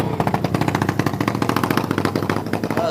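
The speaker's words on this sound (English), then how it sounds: "Mason Delgado, pretty loud, kind of a exhaust leak going on there" An off-road racing ATV or side-by-side engine with an exhaust leak, loud and near, chattering in a rapid, steady pulse of sharp exhaust pops throughout, with no talk.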